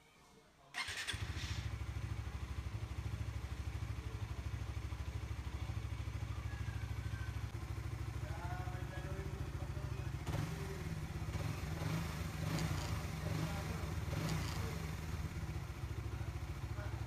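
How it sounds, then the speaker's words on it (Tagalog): A Suzuki Raider 150 FI motorcycle engine catches within the first second, then settles into a steady, even idle that runs on alone, close and moderately loud, with a slight louder stretch toward the end. "dahil nasa tamang idle speed na po ang ating motor."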